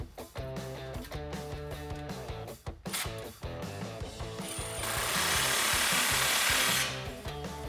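A ratcheting socket wrench with a 15 mm socket tightening the exhaust clamp on a 2015–2020 Ford F150 3.5L EcoBoost Roush single exhaust, quick repeated close metallic clicks followed by a louder sustained rushing whir.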